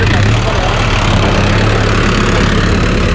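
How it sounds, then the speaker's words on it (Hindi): Arjun Novo 655 4x4 tractor engine runs steadily with a 9-foot super seeder, a loud, continuous low rumble and drone with no breaks, up close. "हमारी ओर तो बहुत बढ़िया ट्रैक्टर रिस्पॉन्स दिखा रहा है अपना, बहुत बढ़िया चल रहा है"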